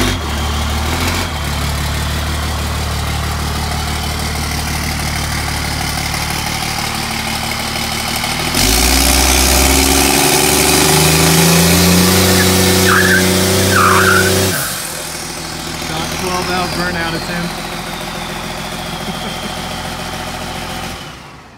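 A 12-valve truck engine idles and revs while the tires spin and squeal in a burnout, the roar swelling louder midway before dropping back, heard close and alone without talk.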